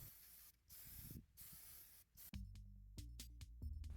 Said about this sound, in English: Then spray paint outside. I used an acrylic black primer.